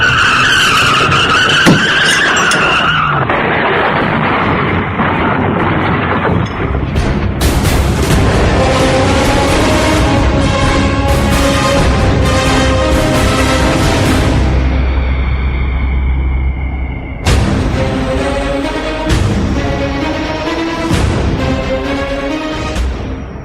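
A car skids hard at an intersection as a truck suddenly cuts across, a long loud screech of tires with booming impacts, swelling and breaking off in stages.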